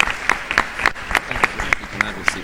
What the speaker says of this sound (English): A round of applause for him as well.